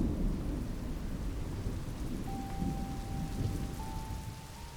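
Steady rain falls on the open Serengeti plains during a thunderstorm, a dense, continuous hiss with low rumbling underneath, moderately loud and even throughout.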